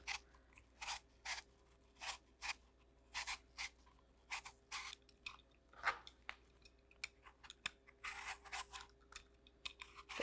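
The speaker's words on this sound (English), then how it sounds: "We're just gonna cut our apple into cubes and then simmer it." A knife cuts a Granny Smith apple into cubes, giving a quiet series of crisp, irregular slicing and chopping crunches close by, with short pauses between strokes.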